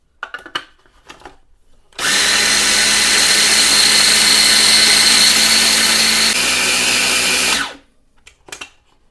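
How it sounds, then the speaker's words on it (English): A blender grinds oats into oat flour in one loud, continuous whirring burst of about five and a half seconds that stops abruptly, with quieter handling noises before and after. "I'm going to start by grinding up and making 3 cups of oat flour."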